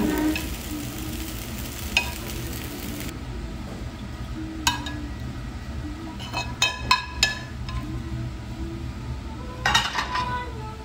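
Crispy fried noodles stir-fried in a pan in a restaurant kitchen: a continuous sizzle with scraping stirs and sharp metallic clinks of utensil against pan, heard close up.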